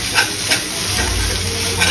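Ground ginger garlic paste frying in a pan, a steady close sizzle with soft stirring scrapes, moderately loud throughout the short stretch with no talking.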